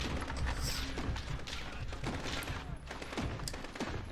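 Sustained heavy gunfire from a Call of Duty Modern Warfare campaign battle, dense overlapping bursts and booming impacts continuing without a break, loud and chaotic throughout.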